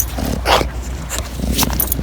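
Blue, a dog at a dog park, gives a few close barks and yips over outdoor background noise.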